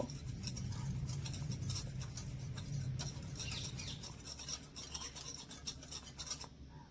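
A spoon scrapes and rasps as milk powder and sugar are stirred together in a bowl, a quiet, steady gritty scratching with light irregular taps.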